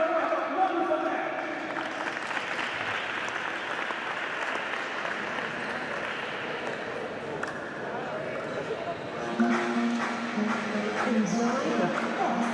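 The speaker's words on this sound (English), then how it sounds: "A round of applause for everyone." Crowd applause fills a korfball arena before a Korfball Champions League final between NC Benfica and KK Brno, sustained and steady, with an announcer's voice over it and a louder swell near the end.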